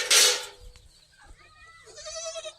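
A farm goat being given water on a cold winter day lets out a few short, wavering bleats close by, separated by quiet gaps and a brief rustle at the start.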